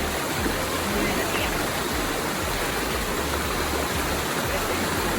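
Nam Tok 9 Jon waterfall in Ratchaburi, a dense and continuous roar of rushing water that stays close and steady throughout.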